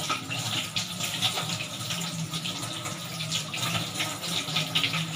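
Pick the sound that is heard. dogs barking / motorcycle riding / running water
running water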